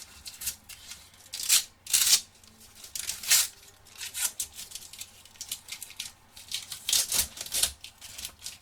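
Foil sachets of Lego Ninjago trading cards being torn open by hand, with bursts of ripping, crinkling and card shuffling coming in irregular clusters, close and fairly quiet.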